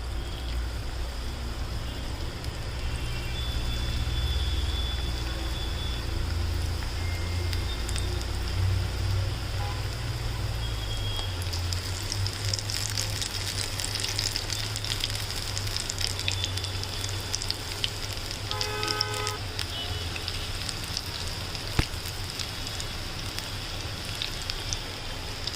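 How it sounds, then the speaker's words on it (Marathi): Corn bhaji fritters deep-fry in hot oil, a soft, continuous crackling sizzle with a brief metallic clink partway through. "आता आपण छान मिक्स करून घेऊ आणि आता आपण तळायला घेऊया"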